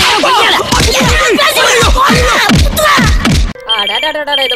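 A telephone rings near the end, its trilling tone cutting in after a stretch of loud, busy background noise with thuds and voices.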